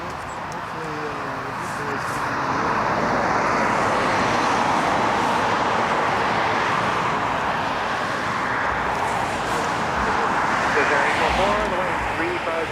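A large airliner departing overhead at snowy Toronto Pearson airport swells into a broad roar that peaks mid-clip and lingers. A person talks in the foreground.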